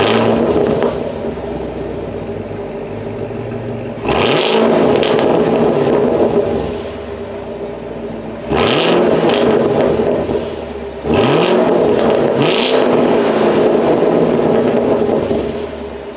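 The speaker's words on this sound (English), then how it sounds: "having a manual, this car snap, crackles, and pop more on the startup" A Chevrolet Camaro SS 1LE V8 with manual transmission starts and idles, then revs hard three times, each rise to a loud roar falling back to a rumbling idle, close and with no talking.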